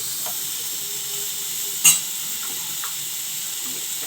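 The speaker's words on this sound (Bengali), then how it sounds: "আমি গ্যাসে ওটাকে একটুখানি এনে ঝলসিয়ে নেবো" Malai kebab seared over a gas flame gives a steady, close sizzling hiss, broken by one brief clatter near the middle. No one speaks.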